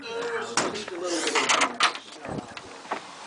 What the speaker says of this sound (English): And here, I'm going to open this door, just take a quick look outside.